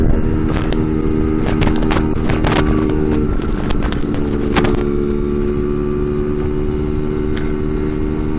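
Scooter engine droning steadily and loudly throughout a ride on Norwegian roads, with a constant harmonic hum and sharp wind-buffet crackles.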